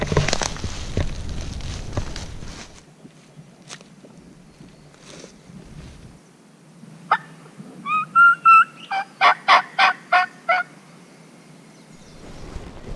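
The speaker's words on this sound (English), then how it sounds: "we've got a bird gobbling" A wild turkey gobbles from a wooded ridge on public land, a burst of several rapid warbling notes rising to loud pulses in the middle of the clip, following soft rustling and scratching in leaves at the start.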